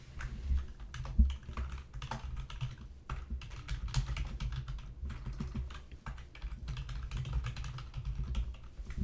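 Typing on a computer keyboard, a close, steady run of quick key clicks in uneven bursts with short pauses, alone without talk.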